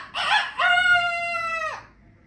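A rooster crows once, loud and close: a short rough opening note, then a long clear drawn-out call that drops off at the end, alone with no talk.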